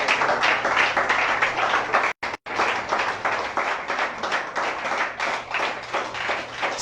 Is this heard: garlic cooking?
no